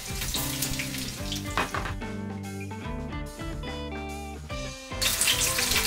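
White croaker (ishimochi) deep-frying in a shallow layer of oil, a steady close hiss and crackle of sizzling that swells louder at the start and end, heard alone with a tonal background.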